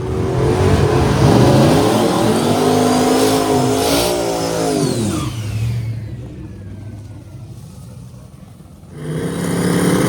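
A small-tire drag race car accelerates hard in a first-round pass, its engine screaming through rising gear pulls, then fading as it recedes downtrack before another engine roar returns near the end.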